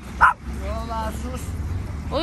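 Pitbull dog giving a sharp yelping bark followed by whiny, whimpering vocalizations, close by, with a person talking over it outdoors.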